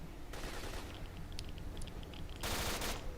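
Gunfire in the video game S.T.A.L.K.E.R., with bursts of shots and sniper fire crackling against a steady, noisy game ambience and a louder burst near the end.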